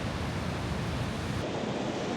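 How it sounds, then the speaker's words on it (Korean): Steady, dense roar of surf washing against the rocky shore at Hajodae on Korea's east coast, continuous and fairly loud with no voices. "저 파도 봐요."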